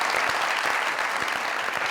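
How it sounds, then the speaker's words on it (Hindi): A studio audience bursts into loud, sustained applause, a continuous wash of many hands clapping close and full throughout. "जोरदार तालियां"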